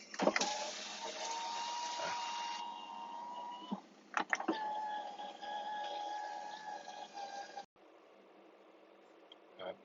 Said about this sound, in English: hold it all the way down so the window's gone down, hold it all the way up